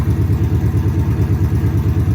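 A race car engine with no exhaust fitted idles steadily, heard from outside at close range, a loud low rumble with an even, rapid pulsing beat and no talking.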